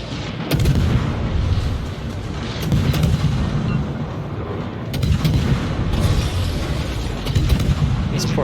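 Battleship main guns firing salvos in World of Warships, with loud booming blasts recurring every second or two over a continuous dense rumble of battle noise.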